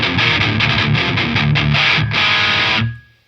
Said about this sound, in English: if I was asked to describe a distorted guitar tone, I might use the words aggressive or even brutal